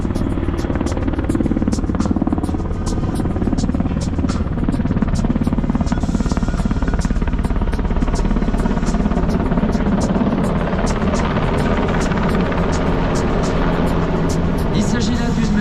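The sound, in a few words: French Air Force helicopter flying at air show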